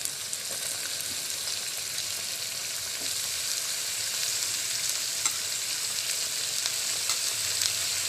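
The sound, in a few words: frying goat tripe with fat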